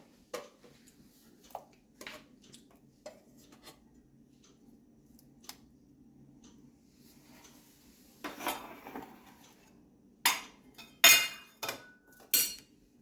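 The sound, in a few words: fish placed into a cooking pot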